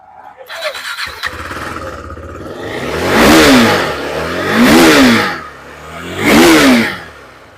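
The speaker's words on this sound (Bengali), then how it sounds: "RC RC 390 সাউন্ডটা একবার শুনুন গাইস, গাড়ি গিয়ারে আছে।" KTM RC 390 motorcycle in gear revving: after a brief start, three loud, close throttle blips rise and fall in a smooth, whining swell, with voices faintly in the background.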